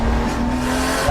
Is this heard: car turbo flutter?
yes